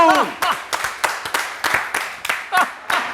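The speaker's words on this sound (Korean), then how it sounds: "박수들 치지 마요." Several people clap in a casual indoor drinking session, a string of sharp separate claps in an uneven rhythm, close and loud, with voices and laughter mixed in between.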